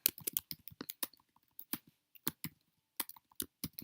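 Fast, irregular clicks of computer keyboard typing come in quick bursts with brief pauses, crisp and close, with no talking.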